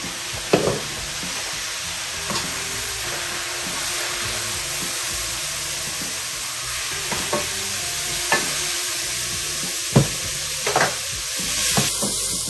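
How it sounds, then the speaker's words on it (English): Onions and lamb for braised lamb shanks are stirred in a single pan, with a steady sizzle running under repeated scraping strokes of the spoon, close and moderately loud, with no talking. "just stir this around a little bit, and you're going to see some caramelization going on the onions"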